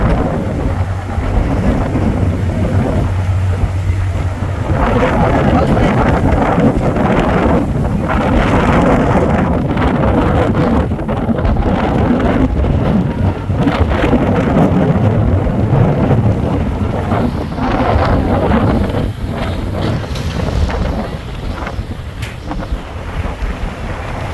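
Strong Kalbaishakhi storm wind roars continuously across the microphone, with a rushing, buffeting sound over open river water around the passenger launch MV Doyel Pakhi-10, and no talking.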